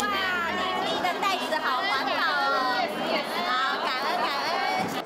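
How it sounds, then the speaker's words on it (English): Dense crowd chatter at a busy goods sale featuring well-known Tang Mei Yun's products, many overlapping voices murmuring steadily and close throughout without a pause. "The goods offered by well-known Tang Mei Yun attracted a crowd throughout the event."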